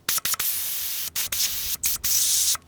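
Air hisses out of a bicycle tire valve in a series of sharp, short bursts with brief pauses between them, close and fairly loud as the tire is let down toward 10 PSI.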